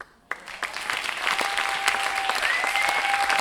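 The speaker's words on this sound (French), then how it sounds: "On applaudit la poésie de Myriade de Meaux," Sudden burst of applause from the crowd at a slam poetry tournament night in Lyon, rising after a brief quiet and holding as loud, dense clapping with a few faint shouts.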